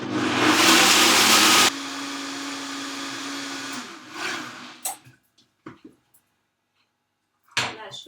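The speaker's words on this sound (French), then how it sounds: "Et j'ai plus qu'à mixer." A countertop blender roars at full power through raw cauliflower sauce for under two seconds, then drops to a lower steady whir that fades out. Scattered clunks and handling noises follow in a quiet kitchen.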